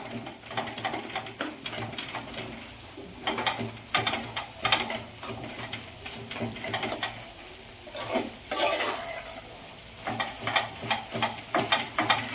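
Spatula scraping and breaking up cooked egg bhurji in a frying pan, dhaba-style with black masala, giving repeated irregular scrapes and clatters over a low steady sizzle, fairly close with no talk.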